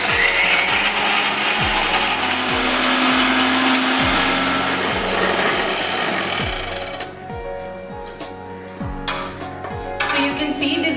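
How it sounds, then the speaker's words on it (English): A mixer grinder blends bourbon biscuits into powder, a loud close motor whir with rapid rhythmic thumping of the pieces inside the jar, running steadily before easing into a quieter, lighter spin. "Since I've grinded the biscuits along with the cream"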